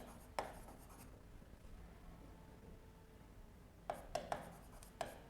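Chalk or marker writing on a classroom board during a chemistry lesson on stoichiometric defects in solids: a quiet stretch with one early stroke, then a cluster of short sharp tapping strokes near the end, no talk over it.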